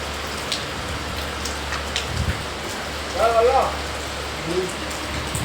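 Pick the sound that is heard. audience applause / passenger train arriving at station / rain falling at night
rain falling at night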